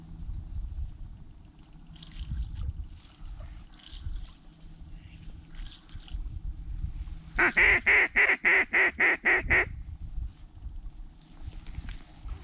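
Mallards quack on public hunting land in Kansas during a duck hunt. About nine loud, evenly spaced quacks come in a quick run midway through, over a low, rumbling outdoor background with faint murmurs before and after.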